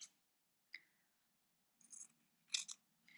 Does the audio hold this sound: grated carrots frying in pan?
no